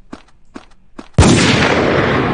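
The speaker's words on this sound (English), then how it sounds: "This is a sniper rifle." A sniper rifle in the video game CrossWar fires one loud, sharp shot with a long decaying tail, preceded by three faint soft clicks.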